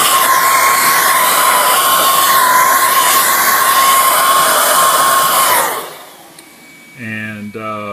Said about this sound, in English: Let me turn the vacuum back on.